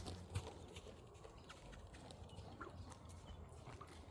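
Horse with a saddle on moving around a round pen, soft irregular hoof thuds on the ground, quiet and somewhat distant.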